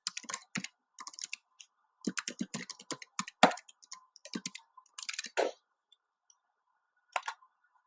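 Someone types a name on a computer keyboard while setting up a database writer in SAP HANA software: close, crisp key clicks in quick irregular clusters with short pauses, alone with no talking.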